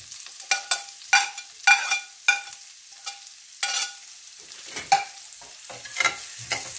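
Jeera, chilies and onions fry in a pan, with a sequence of sharp scraping stirs and brief sizzling bursts at an irregular rhythm, close up with no talk.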